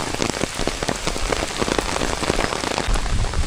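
Heavy Baishakh downpour during a lightning storm, dense rain drumming steadily on surfaces and foliage nearby, loud and continuous with no voices.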